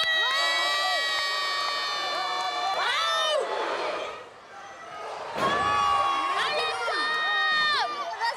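A loud crowd at a wrestling event screams, cheers and whoops throughout, with high shrieking voices rising in waves and a brief dip midway before the roar swells again.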